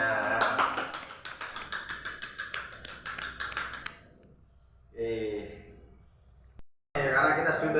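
A classroom of students clapping their hands together in quick, rhythmic bursts over roughly four seconds, followed by a pause and a teacher's voice speaking nearby.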